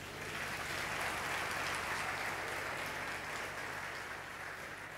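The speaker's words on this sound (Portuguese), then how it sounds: "Você pode aplaudir Jesus por isso?" A church congregation applauding during a sermon, a dense, sustained burst of clapping that fills the room and fades slightly toward the end.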